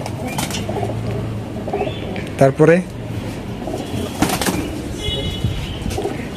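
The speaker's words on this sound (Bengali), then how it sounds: "এই যে খাঁচার যে কবুতরগুলো, এই খাঁচার বেশ কিছু বাচ্চা আছে এই বছরেরই" Caged pigeons coo softly in a loft housing several of this year's young birds, a short throaty burst mid-way with a voice talking over steady background noise.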